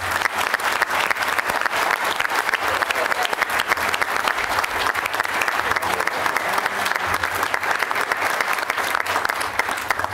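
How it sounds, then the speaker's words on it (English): A graduation crowd at a university agriculture college ceremony applauds a graduate, dense, loud and sustained clapping from many people filling the whole ten seconds with a faint murmur beneath. "let's give Mel a round of applause"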